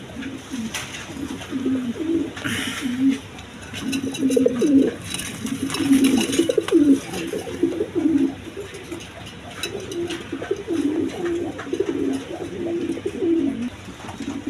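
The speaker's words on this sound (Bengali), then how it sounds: "এখানে এক পেয়ার খরমোনা কবুতর আছে দেখেন" A pair of red Khormona pigeons coo repeatedly in low, throaty bursts, close by, with faint background chatter and noise.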